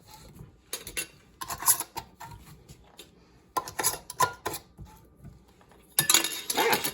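Metal rings being screwed down onto glass canning jars of chicken, with bursts of clinking and scraping metal-on-glass separated by brief quiet pauses.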